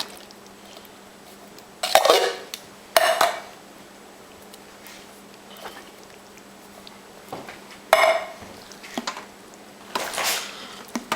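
Spoon scraping and clanking in a crock pot while stirring chili beans and tomato sauce, several separate bursts of stirring with quiet gaps between, close by.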